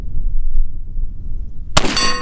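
A gunshot strikes an oxygen bottle at an outdoor shooting range, landing as one sharp, loud crack with a ringing metallic tail near the end after quiet low rumble.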